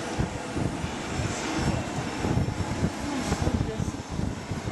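A small propeller airplane's engine drones steadily and fairly loud throughout, with voices talking over it near the aircraft.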